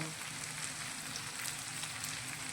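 Onion and tomato roasting in a pan for shahi paneer, a steady close sizzle and crackle of frying that fills the whole moment without pause, with no voices over it.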